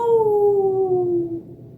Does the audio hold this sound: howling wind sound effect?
yes